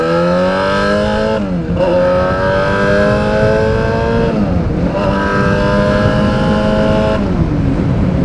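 A Yamaha R6 sport bike accelerates through the gears, its loud high-revving engine climbing steadily, then dropping briefly at each of several shifts before rising again.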